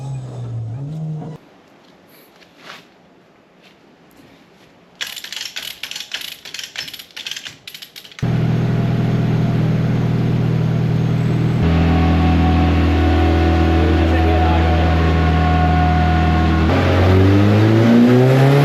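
A car newly brought from Latvia is driven on a test run, with faint mechanical clicks and ratcheting giving way to a loud, steady engine drone that holds and then climbs in revs, close and without talk.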